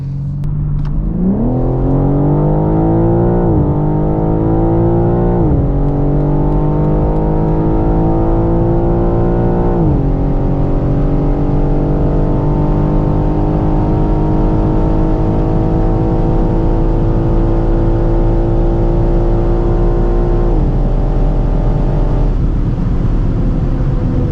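A 680 hp BMW M3 Touring accelerates hard at wide-open throttle, its engine note rising loudly and steadily through several quick upshifts, each marked by a brief dip before the pitch climbs again.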